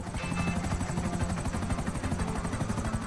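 Rotor blades of a helicopter in GTA Online beat in a fast, regular thumping rhythm, a moderate, continuous drone heard alone for a few seconds.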